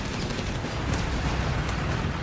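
Mortar fire in the Company of Heroes 3 video game during a 2v2 match, a dense barrage of booming shots and rumbling blasts that comes in continuous overlapping bursts.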